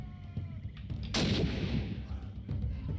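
A single gunshot in the Sherlock Holmes: The Awakened video game, a sharp loud crack followed by a booming rumbling tail over low ambient game background.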